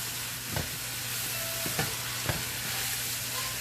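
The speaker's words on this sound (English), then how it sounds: "let me give it a quick toss" Spaghetti with tuna and capers tossed in a pan, a steady sizzle under a few scraping stirs and clattering knocks of the utensil against the pan, close and moderately loud, no voices.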